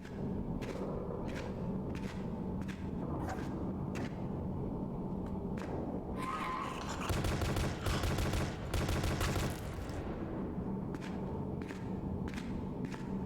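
Rapid bursts of gunfire from a horror video game, repeated sharp shots in quick rhythm with a denser volley of rapid fire midway, loud and close with no talking.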